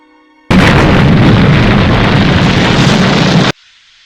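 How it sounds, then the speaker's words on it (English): A rocket launch rumbles as a sudden, loud, broadband roar that starts abruptly, holds steady for about three seconds, then cuts off cleanly. "what a splendid rocket launch, Dr. Liz."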